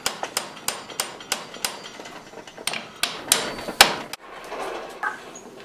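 A blacksmith hammers a hot bar, upsetting and straightening it, in a series of sharp, ringing blows at an uneven rhythm, some quick doubles, close and loud with brief pauses between strikes.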